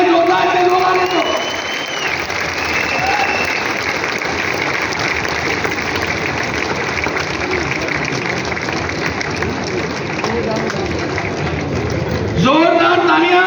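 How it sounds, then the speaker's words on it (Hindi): A crowd at a motivational business seminar claps loudly in sustained applause with some cheering, while someone speaks over a microphone at the start and end. "जोरदार तालियां तालियां बंद नहीं होनी चाहिए"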